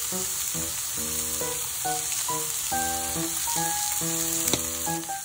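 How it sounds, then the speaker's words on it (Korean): Pork belly or pork neck fries in a pan, a dense, steady sizzle and crackle close by, with brief rhythmic clinks running through it. "팬에 삼겹살이나 목살을 구워줍니다"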